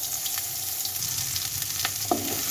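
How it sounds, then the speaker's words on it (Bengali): Onion frying in a pan gives a steady, close sizzle throughout, with a few faint clicks and a brief clink near the end. "পেঁয়াজটা ভেজে নিই।"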